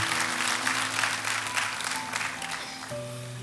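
Steady applause from a church congregation during an online worship service runs throughout, over a sustained keyboard pad in the background.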